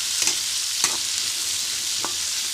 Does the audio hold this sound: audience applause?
no